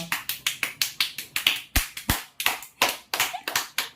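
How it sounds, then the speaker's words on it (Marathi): Sharp, quick hand claps at a dog's first birthday party, a close and fairly regular run of about twenty crisp claps with slight pauses in the middle, and no talking over them. "टाळ्या वाजवा, टाळ्या वाजवा"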